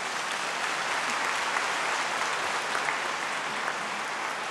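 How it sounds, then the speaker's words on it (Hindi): Sustained applause from an audience at a spiritual gathering greets guests on stage, dense and steady clapping throughout without pause. "जोर से ताली बजाएंगे।"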